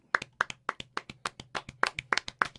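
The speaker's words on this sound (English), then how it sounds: "clap it up for PB getting a wrench" A single person claps by hand about ten times in a quick, fairly even rhythm, each sharp clap close and crisp against a quiet background.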